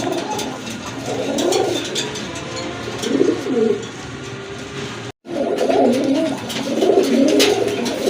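A pen of racing pigeons kept for sale coos steadily, with layered low, throaty calls close by. The sound is moderately loud, runs over a constant background hum and breaks off briefly midway.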